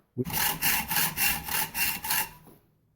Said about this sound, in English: I'm just using a hacksaw to make some straight cuts on both sides of the shaft.